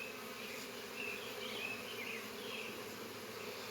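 Honey bees buzzing inside a beehive during a hive check, a dense continuous drone with a few individual bees whining closer by, steady and fairly soft with no talking.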